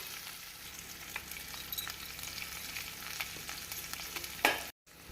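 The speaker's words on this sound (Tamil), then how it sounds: "வெங்காயம் பூண்டை போட்டு நாம் 1 நிமிடம் வதக்க வேண்டும்." A soft, steady sizzle of onions and garlic frying in a pan, with faint scraping stirs scattered through and a brief clatter near the end.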